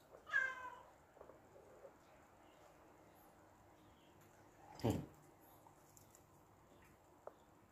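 A cat meows near the start, a short rising cry, with a louder sharp sound around the middle and quiet room noise otherwise; no clear talk.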